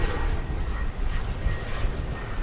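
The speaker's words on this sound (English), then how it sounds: "That's Flight 343 going to Cancun, an Airbus A321" An Airbus A321 jet airliner bound for Cancun at Dallas Fort Worth airport gives off a steady, moderately distant engine rumble with a broad airy hiss and no voices.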